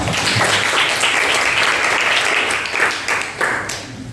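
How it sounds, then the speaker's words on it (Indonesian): A classroom of students bursts into applause for a classmate during an economics lesson. The clapping is dense and loud and holds steady, then thins a little near the end. "Tepuk tangan buat Rival."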